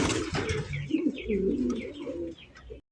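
Mehendiwala pigeons coo in a low, throaty, repeated rolling call, close and fairly loud, with a few brighter chirps above, ending in a brief sharp noise.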